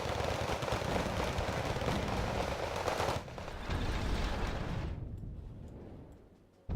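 Infantry covering fire in the Wargame Red Dragon strategy game, a dense unbroken rattle of automatic gunfire and blasts that runs loud for about five seconds and then thins and fades out.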